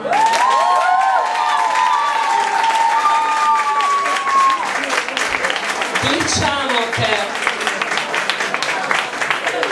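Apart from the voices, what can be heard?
studio audience applauding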